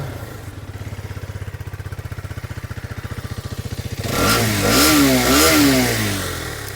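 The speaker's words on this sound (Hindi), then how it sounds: "तो मैं एक्सट्रीम का जो एग्जॉस्ट का साउंड है वो पहले आपको यहाँ पर दिखाता हूँ।" An Xtreme 250R motorcycle exhaust putters at a steady, even idle, then the engine is revved in several rising and falling bursts, loud and close.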